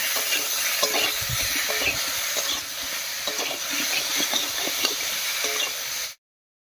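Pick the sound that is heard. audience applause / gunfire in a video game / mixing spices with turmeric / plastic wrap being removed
mixing spices with turmeric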